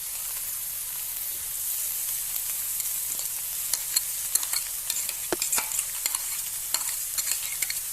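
Crushed spice mix is stirred into a drumstick leaf stir-fry in a pan, with a steady sizzle and a run of close, clicking scrapes from the stirring. No one speaks.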